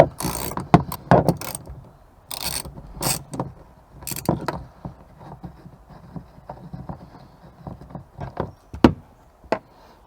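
Ratchet work on 10 mm bolts of a Toyota 4Runner rear cargo rack, with irregular bursts of clicking and metallic knocks, close up, pausing between spurts.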